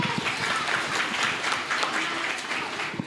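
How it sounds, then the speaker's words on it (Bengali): An audience at an evening Rabindra programme applauds the performer Koyel, steady dense clapping from a mid-sized crowd throughout, moderately loud and unbroken. "প্রথমে কোয়েলের জন্য একটা জোরে হাততালি হোক"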